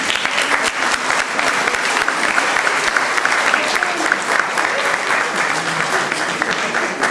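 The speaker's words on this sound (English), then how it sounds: "give them a round of applause and thanks" Sustained applause from a large crowd at a Navy graduation ceremony, dense and steady clapping that holds at an even level throughout.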